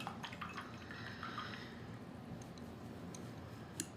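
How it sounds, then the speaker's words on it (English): A paintbrush is swished and rinsed in a cup of water, producing faint, close dripping and light sloshing ticks at a quiet, steady level. "Now we wash the brush."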